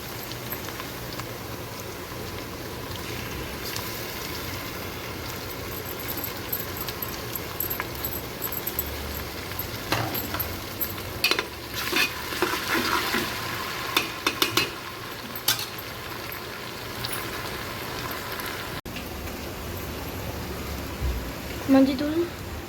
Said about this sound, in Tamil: வெங்காயம் நல்லா வதங்கிடுச்சு. இந்த டைமில் நம்ம இஞ்சி பூண்டு பேஸ்ட் போட்டுக்கலாம்.